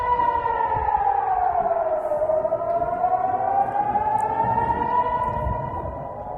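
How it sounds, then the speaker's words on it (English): Air raid sirens wail continuously, a single steady tone dipping and then rising again, loud and sustained before fading slightly at the end. "this video will contain sound of sirens"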